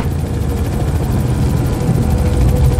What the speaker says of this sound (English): Send a chopper over to soften him up.